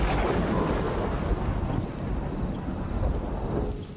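Heavy rain pours down in a village during a storm while thunder rumbles low and continuous, a dense loud wash of sound that slowly eases toward the end.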